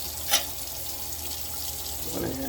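Tap water runs steadily into a sink as dandelions are washed, a soft continuous splash with a brief sharper clink near the start.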